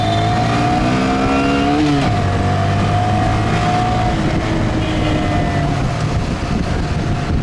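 A Honda Grom motorcycle engine drones steadily while riding through Saigon, its pitch dropping as the rider shifts and then climbing again, loud and close with wind rush and no talking.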